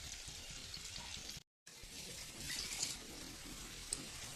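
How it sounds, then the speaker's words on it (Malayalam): Prawns laid out in a hot pan fry steadily on one side, giving a continuous close hiss and crackle with a brief dropout partway through. "അത് ഈ വശം ഫ്രൈ ആവട്ടെ."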